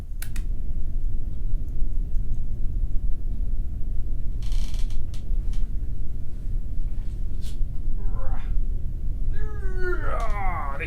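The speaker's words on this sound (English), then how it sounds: "This is my cat." A pet cat gives a couple of short meows near the end, heard over a loud, steady background hum with a few clicks.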